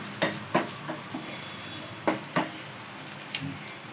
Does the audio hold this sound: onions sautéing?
yes